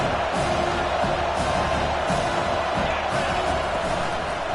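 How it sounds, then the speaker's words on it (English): Stadium crowd noise swelling on third down in the college football video game NCAA 25, a dense, roaring wall of fans with scattered whoops and cheers, loud and steady throughout with no clear speech. "Decibels rising as the crowd gets behind this defense on 3rd down."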